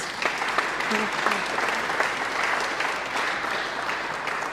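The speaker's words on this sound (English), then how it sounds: "So please give her and her team a round of applause" Steady applause from an audience at a youth cricket tournament media launch, sustained dense clapping at moderate loudness, with faint voices murmuring underneath.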